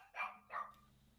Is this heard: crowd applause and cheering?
no